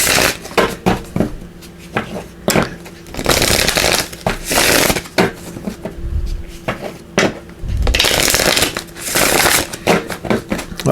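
Cards are shuffled in several quick, crisp bursts of riffling, close and loud, separated by short pauses and light handling clicks.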